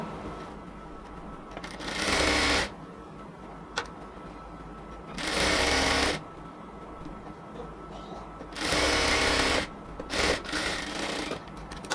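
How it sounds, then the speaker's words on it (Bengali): A sewing machine hems the leg opening of a salwar in three separate bursts of about a second each, a close buzzing whir separated by quieter pauses of handling the fabric. "এটাকে ফুললি ফোল্ডিং করে আমরা পুরোটা পায়ের মুখকে এবার সেলাই করে নেব"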